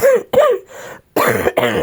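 Several rough, close coughs from a person with a cold, in quick succession with short pauses between bursts.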